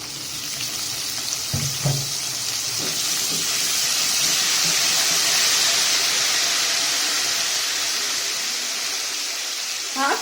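Vegetables with turmeric roasting in a pan over a low flame, a steady soft sizzling hiss that swells gently through the middle, with a few light clinks of a utensil early on.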